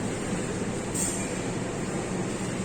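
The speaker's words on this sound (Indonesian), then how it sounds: "Kereta masuk di jalur 1" Argo Anggrek passenger train pulling into a station platform, a steady, loud rolling rumble of wheels on rails with a brief high squeal of wheels near the start, continuous and close.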